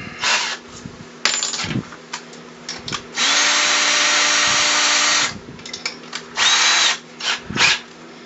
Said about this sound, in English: So, time to switch to our big drill bit.